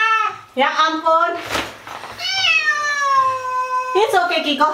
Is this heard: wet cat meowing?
yes